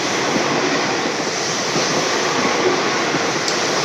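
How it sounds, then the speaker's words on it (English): Steady, loud rushing rumble of a passing train, constant and unbroken throughout. "Train."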